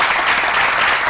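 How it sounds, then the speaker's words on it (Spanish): Loud, dense applause from a crowd at the closing ceremony of the Hambre Cero program: a continuous wash of many hands clapping together, full and near, with no speech. "Venga, Amanda, un aplauso para Amanda."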